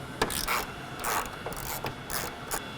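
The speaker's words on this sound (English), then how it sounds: "So to start, you're going to remove these two bolts." Bolts being loosened on a 2015-2016 Dodge Charger Hellcat cold air intake: a handful of soft ratchet clicks and scraping turns, close and fairly quiet.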